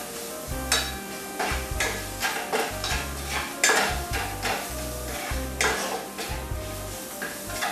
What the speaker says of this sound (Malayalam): ഇതൊന്ന് നല്ലപോലെ ഒന്ന് മിക്സ് ചെയ്ത് ഈ പൊടികളുടെ പച്ചമണം ഒന്ന് പോകുന്ന വരെ ഇളക്കി കൊടുക്കും